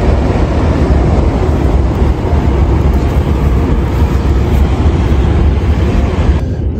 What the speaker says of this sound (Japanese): 電車もライトがついてます。